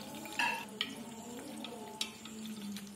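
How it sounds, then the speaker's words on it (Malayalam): Cashews and raisins sizzle as they are sautéed in a pan for biryani, a soft steady frying hiss with a few sharp clinks and scrapes of stirring, fairly close and quiet. "അണ്ടിപ്പരിപ്പ്, മുന്തിരി എല്ലാം അതിലിട്ടൊന്ന് വഴറ്റിയെടുക്കാം."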